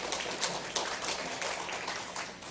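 A church congregation at a Sunday morning service applauds, a soft, fairly distant spatter of clapping that runs evenly for a few seconds.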